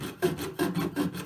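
A fine fretsaw-type blade cuts sheet metal with a rhythmic rasping rub, about four close strokes in quick succession, with no voices.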